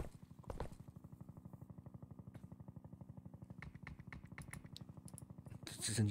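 A helicopter in the game SANABI, its rotor beating in a fast, steady chop that holds evenly throughout, moderately faint, with a few sharper game sounds toward the end.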